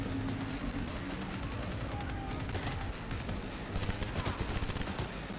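Dense, continuous gunfire in the video game Cyberpunk, a steady rattling fusillade of rapid shots that holds loud and close through the whole stretch without a pause.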